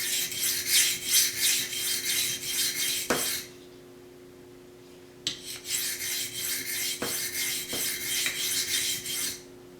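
A knife is freehand sharpened with sweeping strokes on a DMT coarse diamond stone, giving close, steady rasping scrapes that run continuously, break off into a short pause, then resume with sharp stroke starts.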